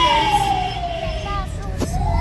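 An ambulance siren wails with a slowly falling pitch, sounding fairly close amid busy crowd noise and traffic.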